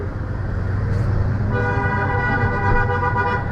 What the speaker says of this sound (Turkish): İnanılmaz bir trafik var bu ülkede ya.